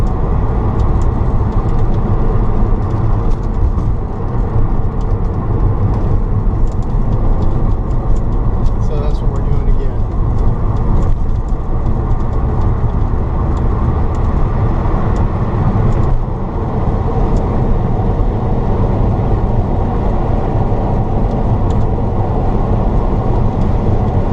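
A gasoline-powered Datsun 280Z engine drones steadily during a short test drive, a loud, even rumble with road noise that holds without a break for the whole stretch.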